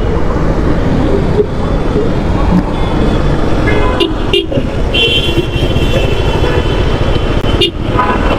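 Traffic jam on a rainy night street in Uttara, Dhaka, with a steady wash of engines, road noise and rain, and a few short horn toots standing out near the middle and end.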